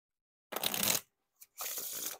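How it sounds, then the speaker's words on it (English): Two quick riffle shuffles of thin Bicycle Glider Back playing cards, each a crisp fluttering burst close up, separated by a short pause and a small tap. "they're like faster kind of riffle shuffles there"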